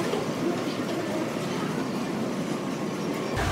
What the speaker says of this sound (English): It's called the plane train.